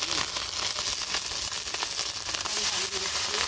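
Food frying in a large wok for a neighborhood community cookout, a steady bright sizzle and hiss with occasional crackles, close up, while people talk in the background.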